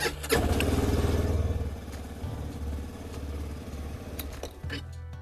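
A cold, unwarmed LINHAI 320 ATV engine cranks and starts, then settles into a steady, slightly uneven idle with a rough putter. Heard close up, with no voices over it.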